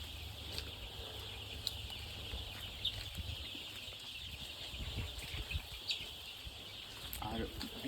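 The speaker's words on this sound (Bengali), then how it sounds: "যাদের খামার তারা বলছেন এখানে 2000 মুরগি আছে।" Chickens on a farm holding about 2000 birds make scattered clucks and brief wing flaps in a steady rural background, with a voice talking over them in places.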